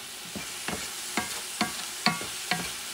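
Rice and pork shoulder are stirred in a frying pan with a spatula, six evenly spaced scraping strokes over a soft, faint sizzle, close by and with no voices.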